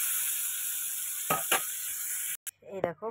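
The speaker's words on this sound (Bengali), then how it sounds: "দেখো করলা ভাজা হয়ে গেছে" Bitter gourd frying crisp in plenty of oil in a kadai gives a steady, close sizzle, broken by a couple of stirring scrapes. The hiss then cuts off and a short burst of voice follows.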